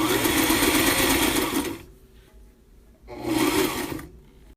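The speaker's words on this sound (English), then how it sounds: "I'm switching to a straight stitch for the rest of this sewing demo" Sailrite LSZ-1 industrial sewing machine straight-stitching through shag fur, loud and close, running in two bursts separated by a brief pause.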